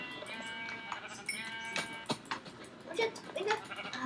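Sheep bleating in a video game, several short, wavering bleats in quick succession over a busy, constant background of game sound.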